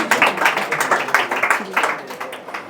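An audience at a poetry event claps loudly in a dense burst of overlapping handclaps, close and vigorous, tapering slightly toward the end.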